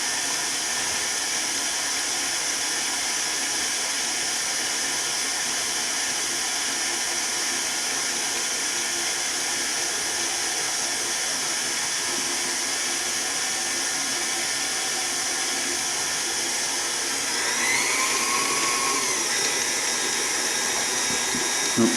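An electric stand mixer runs steadily, kneading garlic pepper cheddar bread dough with flour, a constant whirring drone with no break and a brief shift in pitch near the end.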